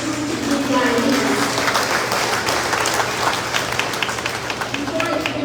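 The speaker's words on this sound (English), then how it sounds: "Give yourselves a round of applause" Applause from an audience at a Guyanese community gathering in a performing arts center, moderately loud clapping with a crowd murmur and some voices mixed in throughout.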